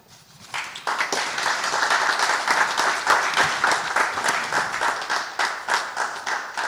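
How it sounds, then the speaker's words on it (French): A crowd at a 50th-anniversary celebration event claps. The applause swells in after a quiet start into a full, energetic burst with distinct, rhythmic hand claps, continuing steadily to the end. "Vous n'applaudissez pas comme c'est doit"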